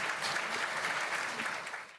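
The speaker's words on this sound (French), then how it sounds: "Merci d'applaudir à nos ministres et les présentateurs ce matin." Audience applause fills a morning plenary session of a Japan–Africa public-private economic forum, steady and dense for about two seconds before cutting off abruptly.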